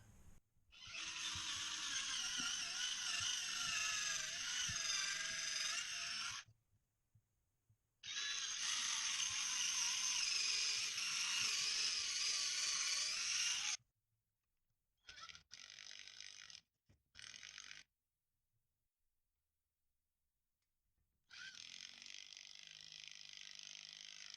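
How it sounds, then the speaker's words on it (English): A power drill whines in long bursts while pre-drilling bolt holes during a garage door opener install, two sustained runs followed by shorter stop-start pulses after a silent pause, then a final run. "So I'm going to pre-drill these holes."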